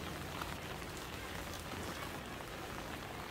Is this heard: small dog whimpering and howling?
no